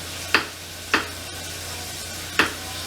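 Knife slicing soft cooking banana on a board, three separate close, crisp cuts at uneven intervals, with no talk.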